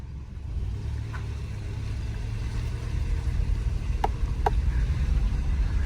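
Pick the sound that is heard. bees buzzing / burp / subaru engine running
subaru engine running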